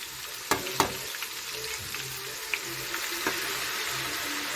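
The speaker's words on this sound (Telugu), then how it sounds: "ఇది పల్లీల నూనె కదండి, ఇది వెల్లిపాయలు పొంగు వచ్చేస్తుంది, జాగ్రత్త." Garlic fries in hot peanut oil with a steady, busy sizzle, while a few sharp pops and spatters stand out near the start; no voices.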